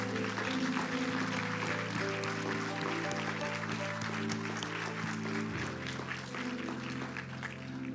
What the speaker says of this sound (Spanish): démosle un fuerte aplauso a nuestro Señor